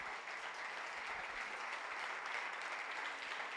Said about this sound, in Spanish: Le damos un aplauso a la palabra.